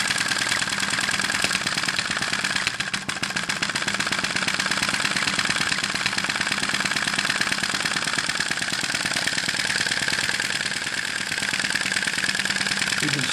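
A small Sai Hu V1-45 vacuum engine runs with a rapid, steady knocking chug, close and loud throughout, its rhythm shifting slightly as it changes direction.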